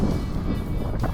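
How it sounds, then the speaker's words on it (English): Strong, cold wind buffeting the microphone at an outback campsite between Camberwell and Barclay Roadhouse, Australia, in a steady low rumble, with gusty swells and no other clear sounds. "Very windy, as you'll hear"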